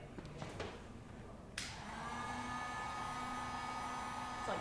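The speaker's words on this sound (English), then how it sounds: "turn on the heat gun" A heat gun kicks on abruptly after a few faint knocks, then blows in a steady, even whooshing roar with a whine on top, holding constant and loud to the end.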